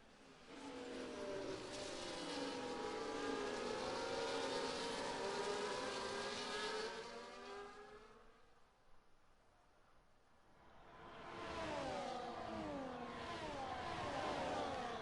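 Race car engines in a racing video game, set at Qatar, with a Ferrari trying to overtake a Kick Sauber. Loud, sustained engine roar that fades into a lull midway, then swells back as cars pass close.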